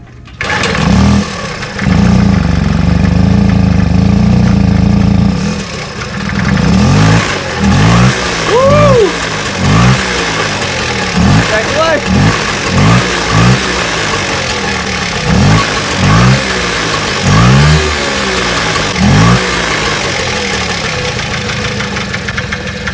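A 1978 Puch Magnum XK moped engine with choke on and exhaust fitted is kicked over, then catches and runs, a loud close two-stroke putter rising in repeated revving bursts and settling into a rough, uneven idle.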